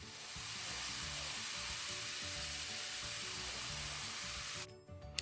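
Chilli garlic sauce with brown sugar and soy sauce bubbling hard in a pan, a dense, even hiss and crackle held steadily for several seconds before it abruptly drops away.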